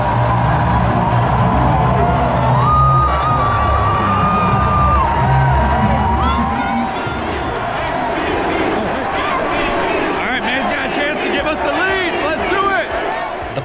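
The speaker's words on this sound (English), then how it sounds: "Just listen to the crowd when Manny Machado gets announced" A packed Petco Park crowd roars and whoops as Manny Machado is announced during a Padres NLCS game, a loud sustained wall of cheering with music over the PA and voices shouting nearby.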